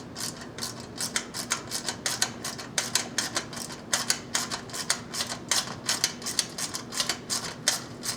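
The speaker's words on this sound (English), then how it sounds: "Now I can go back, snug all these down." Rapid, close ratcheting clicks as bolts are snugged down on a starter cover, a steady fast train of sharp metallic ticks in short bursts, alone without talk.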